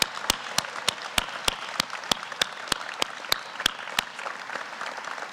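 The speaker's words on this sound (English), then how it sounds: "Let's give them all another big round of applause." Applause from a gala audience at an alumni award of merit ceremony: a broad wash of many hands, with one loud, evenly spaced clapper standing out close by before the crowd tapers off.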